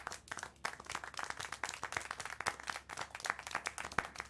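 Irregular hand clapping in the Syberia 4 video game, a few people clapping fairly quickly and unevenly for several seconds at moderate distance.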